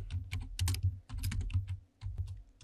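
Rapid computer keyboard typing while entering balance sheet labels into an Excel spreadsheet, with dense clusters of close, crisp key clicks separated by brief pauses.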